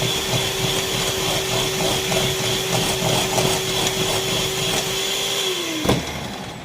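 A blender whirs steadily while mixing banana bread batter, a loud continuous motor drone that holds one pitch for several seconds, then winds down and stops with a small clunk near the end.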